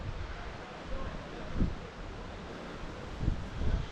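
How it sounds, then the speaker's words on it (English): Strong gusty wind on the Magaluf seafront in Mallorca, a loud broadband roar buffeting close to the microphone with a few heavier low thumps of gusts. "this sort of wind would just pick them up and blow them away"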